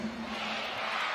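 Basketball arena crowd at a WNBL women's game between Southside Flyers and Sydney Flames, a brief, distant roar of cheering spectators, steady and moderately faint.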